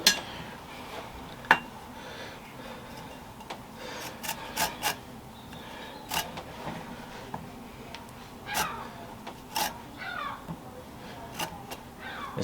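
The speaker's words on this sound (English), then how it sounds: "This grate is a little bit coarse for doing this" Two limes being zested on a coarse grater, with irregular scraping rasps and light metallic clinks spread across the span over a quiet kitchen background.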